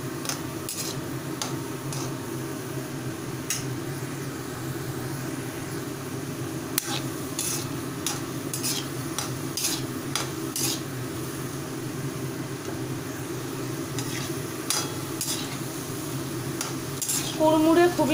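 Snacks deep-fry in hot oil in a pan, a steady low sizzle running under repeated sharp clinks and scrapes of a spatula stirring against the metal, with a brief louder burst near the end.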